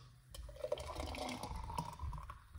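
Homemade pineapple and beetroot juice pours into a glass for a couple of seconds, quiet and close, with a gentle splashing trickle.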